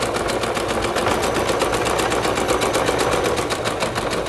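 A sewing machine back stitching fabric for paper bag bloomers runs in a steady, loud, rapid mechanical chatter without a break, close up and with no voices.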